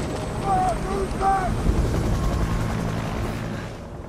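A helicopter rumbles in steady and fairly loud, its low rotor drone filling the whole stretch with a windy, noisy texture that fades slightly toward the end.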